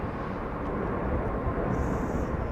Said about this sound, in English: Looks like an Airbus, and it's a big one.